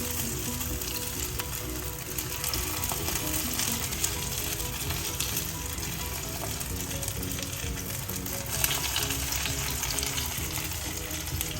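Corn malai kebabs fry in a shallow pan of oil, giving a steady, even sizzle that stays close and moderate for the whole stretch with no talking.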